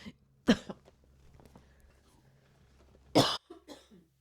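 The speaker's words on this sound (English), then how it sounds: "Are you coughing?" Two sharp coughs, one near the start and another about three seconds later, each followed by a short trailing breathy sound, with quiet room tone between.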